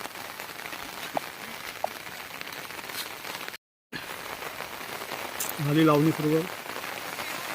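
Steady rain falls over farm fields during the traditional Konkan plowing season, a constant soft patter filling the background while a person speaks briefly.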